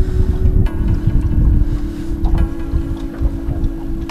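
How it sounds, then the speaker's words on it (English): Wind buffeting the microphone on a fishing boat out for fall tautog, loud gusty low roar with a steady hum underneath and no talk. "it's pretty windy"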